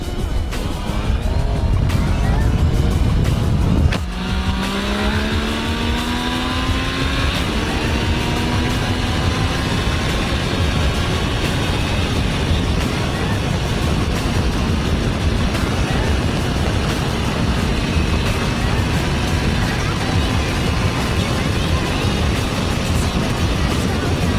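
A Yamaha Tracer 900 motorcycle roars loudly at full throttle, its engine pitch sweeping upward through a gear change and climbing again under heavy wind rush, with no voices.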